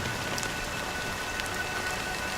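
Steady rain falls in the video game Honkai Star Rail, a dense, even hiss of drops hitting surfaces with faint scattered droplet taps and no voices.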